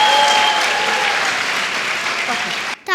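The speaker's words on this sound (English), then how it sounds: "are hoping to hear loud claps from all of you" Loud, sustained audience applause filling a school annual day event hall, dense steady clapping from a large crowd for nearly three seconds before cutting off abruptly at the end.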